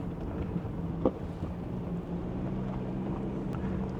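Wind blowing across an open high area of White River National Forest in Colorado, heard as a steady low rumble and buffeting on the microphone, continuous and fairly loud, with no other sounds standing out.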